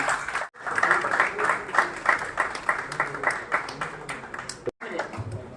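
An audience at a ceremonial gathering claps steadily in welcome, a sustained wave of applause with a loud voice over a microphone speaking above it.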